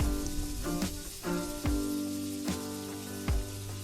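Garlic sautés in melted butter in a skillet over medium heat, giving a close, steady sizzle dotted with sharp pops and crackles.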